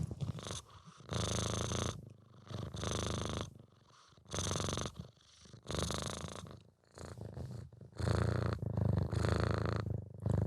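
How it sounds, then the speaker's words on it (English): A cat named Bear purrs up close, long rumbling purrs in a regular breathing rhythm with short gaps between inhale and exhale, soft but clear with no talking. "Now we can hear him purring."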